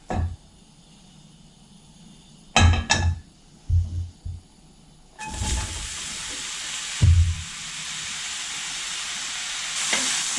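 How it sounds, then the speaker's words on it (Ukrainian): Mushrooms hit hot oil with a burst of sizzling that settles into a steady, loud frying hiss, with a few clanks of a utensil. "влию буквально столову ложку олії та буду обсмажувати печериці"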